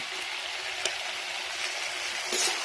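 Fried prawns stirred into a ridge gourd and potato curry sizzling in a pan, a soft, continuous frying hiss with a couple of brief scraping stirs.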